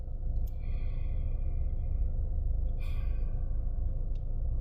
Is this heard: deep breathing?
yes